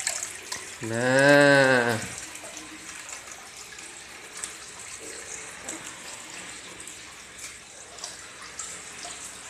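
Water runs steadily from a small hydroponic micro pump, a soft continuous trickle heard close by after a short spoken word at the start.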